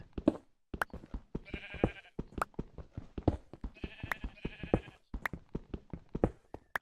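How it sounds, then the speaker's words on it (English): Sheep in the video game Minecraft bleat repeatedly in short nasal calls, interspersed with sharp clicks and hits of gameplay, with no talk over them. "I'm going to smack sheep to acquire some meat and wool"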